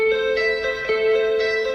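An excerpt of a song plays steadily, a sustained guitar-led passage with held tones and slight bends, fairly loud and without voices over it.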